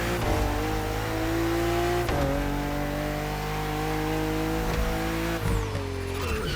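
BMW M2 and M4 race cars in The Crew Motorfest make a continuous loud engine roar on a narrow, twisty road. The revs climb steadily and drop sharply at gear changes, with no voices.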